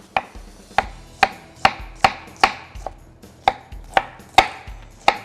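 A knife chops steadily on a cutting board, slicing ingredients for Thai sour curry, about a dozen crisp, evenly spaced strikes close by, with no talking.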